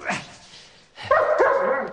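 A dog gives a short, fairly loud bark and then a run of whimpering, yipping vocal sounds nearby in an indoor scene.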